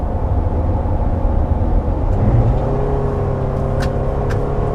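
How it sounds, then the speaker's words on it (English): A 2019 Toyota RAV4's engine drones loudly and steadily through a corner, a gruff, continuous mechanical hum with no voices over it. "Just wish the engine didn't sound this gruff."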